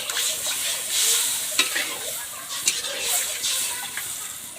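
Water goes into a hot pan while cooking a small fish curry, producing a loud hissing sizzle with bursts of spattering and stirring scrapes throughout.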